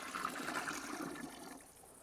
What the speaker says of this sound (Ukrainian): Воду додаю теплою.